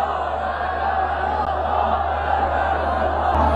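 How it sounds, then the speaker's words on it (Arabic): A large funeral crowd in Egypt's Menoufia province chanting in unison, a dense, steady roar of many voices held at a constant level for a few seconds, with no single speaker standing out. "بيودعوا جثمان الراحل بهتافات لا اله الا الله محمد رسول الله"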